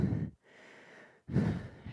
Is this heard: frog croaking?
no